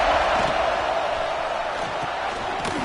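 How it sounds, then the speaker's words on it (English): A football stadium crowd roars in a steady, dense wash of cheering and noise at a CFL game, loud and continuous throughout with no distinct voices standing out. "This crowd ready to make its presence known."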